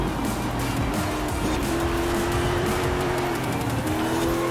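Front-wheel-drive Ford F-150 Lightning on slick race tires lapping a track in a racing game, its engine droning loud and steady with tire squeal rising and fading through corners.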